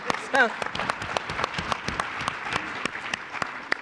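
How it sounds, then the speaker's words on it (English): Conference audience clapping on request during a campus free-speech panel, scattered sharp hand claps of varying loudness with a brief vocal exclamation near the start, thinning out over the few seconds. "Can I get a hand clap for that?"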